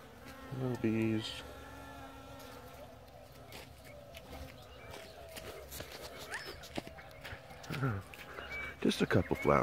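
A faint insect buzz hums among dragon fruit flowers on a farm, with rustling, footsteps and a few louder handling noises near the end breaking over the quiet drone.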